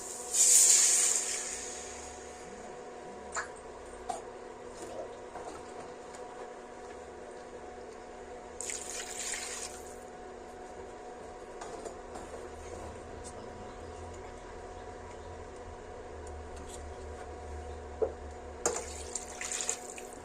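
Water runs steadily from a tap into a pot, a soft continuous hiss with a few brief louder splashes and clinks, about two glasses' worth.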